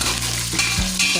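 Sizzling fry in a pan as ingredients are stirred until brown, loud and close, with a spoon scraping through it in a few strokes and short bumps of the utensil against the pan.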